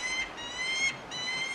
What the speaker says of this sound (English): the peregrine screaming there